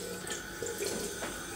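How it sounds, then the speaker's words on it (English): Cold water runs from a sink tap in a steady, close splashing stream, alone with no talk, while a slant razor shave is under way. "So I'll just wet this in some cold water."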